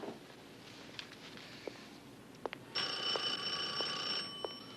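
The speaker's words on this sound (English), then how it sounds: "your phone's ringing" An indoor telephone rings in a steady, bright electronic tone that starts partway through and runs for over a second against a quiet room with a few soft knocks and footsteps. No one speaks.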